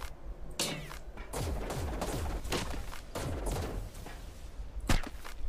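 Repeated bursts of gunfire in ARK, a modded survival game, crack out in uneven volleys with sharp impacts and thuds over steady game noise, one especially loud shot near the end.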